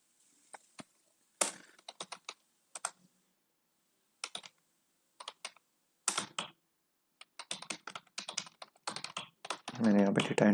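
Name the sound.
typing on a computer keyboard, entering form data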